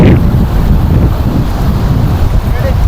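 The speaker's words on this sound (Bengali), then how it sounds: "এখানেও কিন্তু বেশ ঢেউ হচ্ছে" Steady rush of surf and wind close by at Guliakhali beach, Chittagong, a continuous broadband wash of waves with wind buffeting the microphone.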